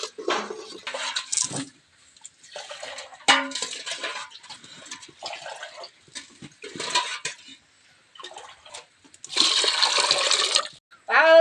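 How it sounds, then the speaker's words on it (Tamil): Water is poured for cooking rice and dal in a metal pot, heard in several sloshing bursts with clinks of utensils, the loudest pour near the end, close and separated by pauses. "ஆறு டம்ளர் தண்ணி ஊற்றிக்கலாம்"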